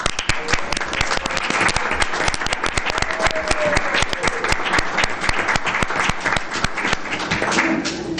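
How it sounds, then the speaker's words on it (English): Audience at a city council meeting gives a round of applause: loud, sustained clapping with sharp individual hand claps standing out close by, steady for the full stretch. "Stand up so we could give you a clap."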